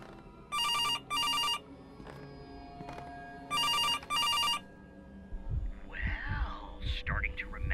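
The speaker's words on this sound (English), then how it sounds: "Phone's ring." A telephone rings in a video game, sounding two paired bursts of electronic ringing, then a pause and two more. A player then talks briefly over a low background hum.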